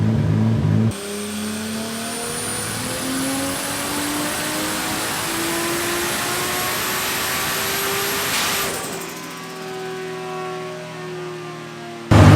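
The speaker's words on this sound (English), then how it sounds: "You're over speeding the dyno." Nissan S14 drift car engine revving hard on a dyno, one long sustained pull with pitch climbing steadily to a high whine, then cutting off abruptly before a brief final burst.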